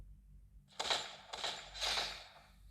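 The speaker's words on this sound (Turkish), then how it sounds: "Nereden vuruyor oğlum o?" Three sharp gunshot bursts ring out in the Free Fire video game, spaced about half a second apart, each with a bright crack and short decay over a low background hum.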